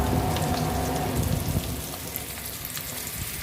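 Potato pieces fry in oil for a cauliflower and potato curry, a dense, even sizzle that holds steady from start to finish with no voices.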